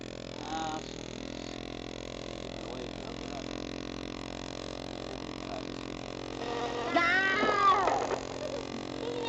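A person imitates a cat's meow, a few drawn-out mewing calls near the end, over a steady background hum.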